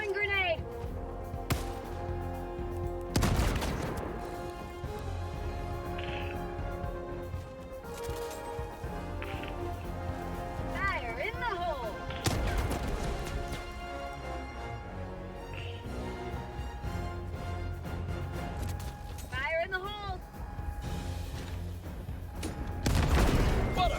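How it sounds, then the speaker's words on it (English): A grenade blast and scattered gunfire in Helldivers 2, a heavy boom followed by bursts of shots over a busy battle backdrop, with someone talking throughout. "Throwing grenade."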